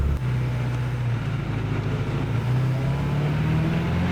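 A Ferrari F355 with a V8 engine and F1 paddle-shift gearbox pulls away in first gear, a steady loud low drone that slowly rises in pitch as the car gathers speed, heard close and alone.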